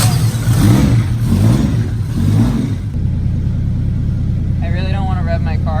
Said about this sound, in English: I really don't want to rev my car in your shop